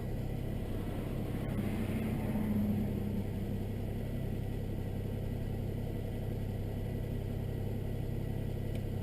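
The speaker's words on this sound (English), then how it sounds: "Idle's starting to come down from cold start." A 1999 Nissan Maxima engine idles steadily after a cold start, with a continuous low hum, close and even, and a brief faint whine near the start.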